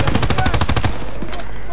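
Rapid machine-gun bursts from Call of Duty WW2, loud and close with a steady fast rhythm for about a second before fading into rumbling battle noise.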